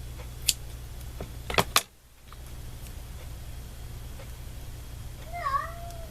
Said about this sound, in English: My cat is hungry.